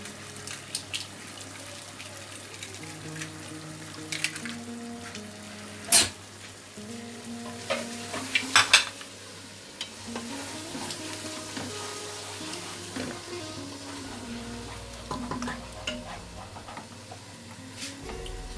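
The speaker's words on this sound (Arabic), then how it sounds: "نحرك هاد البيض." Eight eggs are stirred in a frying pan while cooking a pastilla filling, a quiet sizzle with occasional scraping and clinks from the utensil over nearly twenty seconds and no talk.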